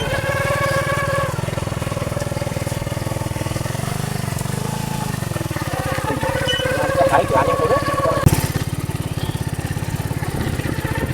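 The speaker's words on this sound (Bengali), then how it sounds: "বাইকটা এখন রানিং আছে" A motorcycle running in gear after the clutch is let out, its engine holding a steady close putter that rises and wavers slightly, with talking over it.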